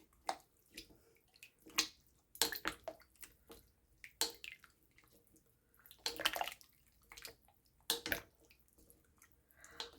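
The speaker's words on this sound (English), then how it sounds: "Now I'll get a spoon and stir it up." A spoon stirs crockpot vegetable beef soup, giving soft wet sloshes and splashes in irregular bursts with quiet gaps between, close and faint.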